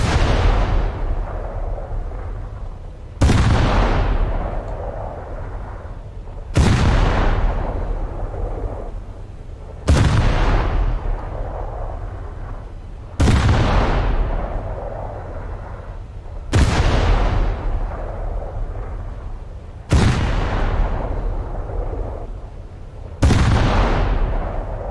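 Heavy naval gun salvos in World of Warships boom out one after another about every three seconds, each loud blast trailing into a long decaying roar, seven shots in all.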